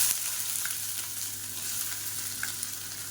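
Finely chopped large onion frying in hot oil for a lunch box dish, giving a steady close sizzle with occasional light stirring taps and no talk.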